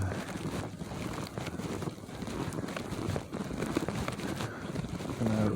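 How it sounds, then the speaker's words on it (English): A snowmobile drives through snow during the 2021 San Antonio snowstorm: a steady, rough engine drone mixed with heavy wind buffeting on the microphone, with voices talking over it. "there's someone with a snowmobile"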